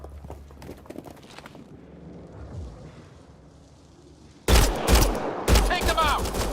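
Gunfire in the sci-fi shooter Mass Effect Andromeda erupts suddenly as loud, sharp bursts after a stretch of quieter scattered ambient sounds and distant thuds, the shots crowding together near the end.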